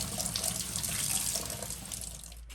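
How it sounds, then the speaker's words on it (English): Tomato seeds rinsed in a sieve under a cold kitchen tap, with a steady, close hiss of running water splashing into the sink throughout, cutting off near the end. "as long as I have them in this sieve, I'm just going to give them a quick little rinse"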